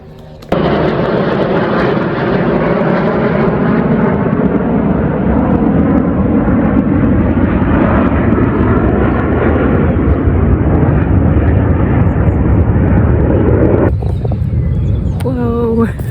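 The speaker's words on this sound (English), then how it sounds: "I've never tried to get my camera out so quick as when those planes came over" Military jets, likely from RAF Marham, roar low over Castle Acre in Norfolk: one loud, continuous, close rumbling pass that holds steady for about thirteen seconds and then drops away, with a few faint knocks after.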